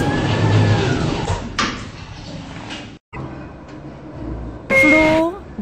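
Schindler 3300 lift doors sliding shut in a Roblox game, a loud rumbling door slide with mechanical clunks and a brief gap, followed by a rising tonal chime or signal; a synthesized voice also speaks.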